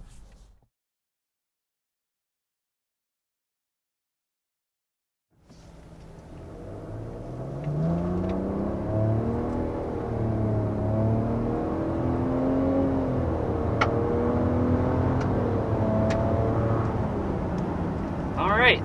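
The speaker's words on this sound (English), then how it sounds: "accelerating up to 60 miles per hour in the 2023 Nissan Rogue" A 2023 Nissan Rogue accelerates up to 60 mph: after a few seconds of near silence, a smooth engine and road hum swells and climbs in pitch through several gear shifts, heard from inside the cabin.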